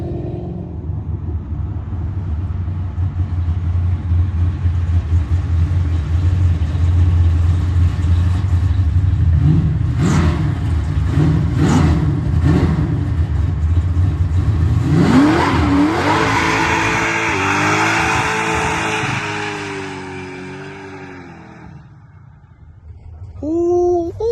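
A boxy Chevy on 24-inch wheels revs loudly under throttle, its engine climbing through several sharp rises and holding a sustained roar before easing off near the end.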